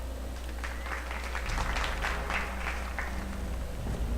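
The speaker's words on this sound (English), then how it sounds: "Slow clap." Slow, scattered applause from a small crowd in the video game Dragon Age: Origins, steady claps spread over a few seconds at moderate loudness with no voices.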